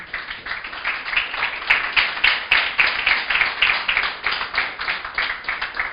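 A church congregation claps together in a steady, rhythmic beat for several seconds, fairly loud and filling the room, with no talk over it.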